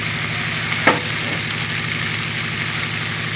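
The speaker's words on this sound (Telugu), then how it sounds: "పచ్చిమిరకాయ ముక్కలు టమాటా ముక్కలు వంకాయ ముక్కలు వేసి బాగా ఆగినేవాళ్ళండి" Green chilli, tomato and brinjal pieces frying for a Kakinada-style fish and egg curry: a close, steady hot-oil sizzle with one brief stirring clatter, no voices.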